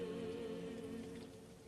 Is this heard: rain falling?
yes